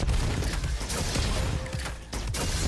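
Rapid, continuous gunfire from a co-op gun in the video game Roboquest, dense and steady at close range for the whole stretch with only brief dips.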